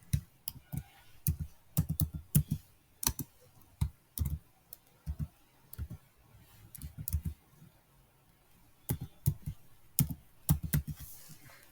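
An account name being typed on a computer keyboard: bursts of close, crisp key clicks in quick irregular runs, separated by short quiet pauses.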